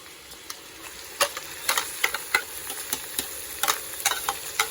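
Chicken skin and offal stir-fried for larb, with a quiet sizzle under repeated sharp scrapes and clicks of a utensil against the pan in an irregular rhythm.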